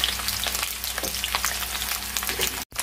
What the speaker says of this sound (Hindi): हमारा अच्छे से गर्म हो गया अब डालेंगे इसमें सहजन की फली